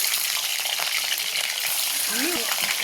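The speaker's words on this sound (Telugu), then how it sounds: "ఇప్పుడు ఈ కాకరకాయలన్నీ మనం ఇందులో వేసేసుకొని ఫ్రై చేసుకోవాలి" Bitter gourds drop into hot oil and fry with a loud, dense, continuous sizzle, close and steady, with a faint metallic clink near the end and nobody speaking.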